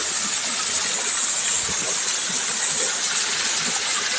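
Talontalonan Falls, a waterfall and stream in Barangay Lalakay, gives a steady, dense rush of falling water that holds at an even level throughout, with no voices.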